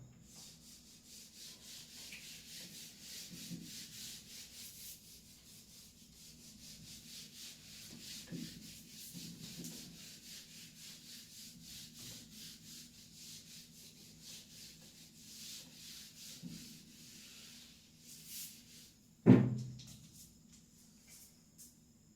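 Pencil eraser rubbing on paper during a chemistry lesson: faint, repeated scrubbing strokes in an irregular rhythm, with one sharper knock near the end and no other voices.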